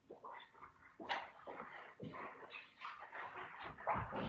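A dog barks nearby in short, hoarse bursts, roughly five or six yaps at irregular intervals, fairly quiet against a still indoor background.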